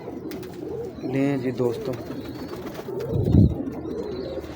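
Teddy pigeons, a pure-bred breeding stock kept in pairs, coo in low throaty bursts near the listener while someone talks over them; a louder coo swells toward the end.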